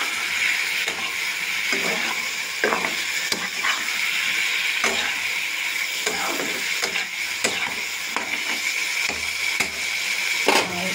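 Ginger and spices sautéing in a pan, a steady bright sizzle with repeated scraping stir strokes at irregular intervals, close and moderately loud, no talk.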